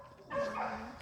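A dog gives a short whining yelp that rises into a drawn-out whimpering bark, close and fairly loud, after a quieter lead-in with faint background noise.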